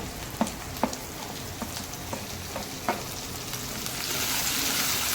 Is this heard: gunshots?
no